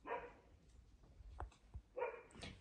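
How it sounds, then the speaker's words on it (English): A dog barks indoors in two short bursts of sharp, quiet barks, the first at the start and the second about two seconds later, with faint thumps between them. "As soon as my dog stops barking."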